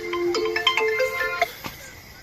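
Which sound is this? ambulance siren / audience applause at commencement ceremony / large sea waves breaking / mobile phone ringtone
mobile phone ringtone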